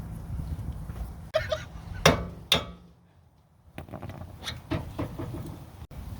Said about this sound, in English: all you got to do is hammer this out until it comes out of the knuckle